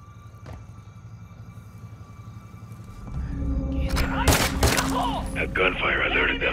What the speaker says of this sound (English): A gunfire alerted them.